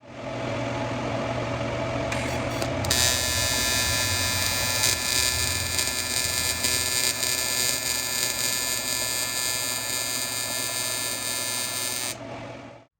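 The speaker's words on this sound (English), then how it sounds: "So this is going to be a weld at 30 degrees, and we'll lay it down" An aluminum TIG weld is laid at 30 degrees with a tungsten electrode. A steady, loud electric buzz and hiss holds for about ten seconds and then cuts off, over a low background hum.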